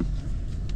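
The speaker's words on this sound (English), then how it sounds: "I'm just driving all across the yard." A car driving across a yard out in the country, giving a steady close low rumble of engine and rolling tyres for under a second with no talk.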